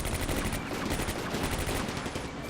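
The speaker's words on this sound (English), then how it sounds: "The Panzer II has been hit with the anti-tank rifle." Dense, continuous gunfire and anti-tank rifle shots in the Combat Mission: Afrika Korps battle at Bir Hakeim, rapid overlapping reports filling the whole stretch loudly with no talk.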